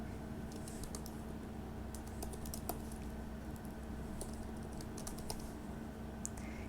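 Quiet typing on a computer keyboard while entering a database query, with irregular bursts of light key clicks over a faint steady hum.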